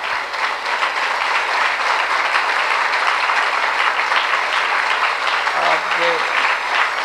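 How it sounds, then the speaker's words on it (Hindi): A satsang audience breaks into sustained, dense applause that fills the whole stretch at even loudness, with a voice briefly calling out near the end. "खूब तालियां बजाओ।"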